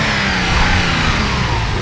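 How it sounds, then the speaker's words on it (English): A 1990 Nissan 300ZX engine runs at a steady, loud rumble, revving slightly with a continuous throaty drone and no pauses. "go ahead and rev it up a little bit"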